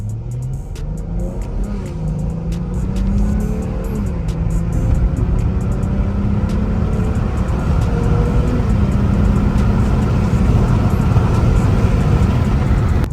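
A Dodge Charger with a resonator delete, in sports mode on a straight road, accelerates from a roll with a loud, steadily rising exhaust drone that climbs in pitch through the gears, heard from inside the car.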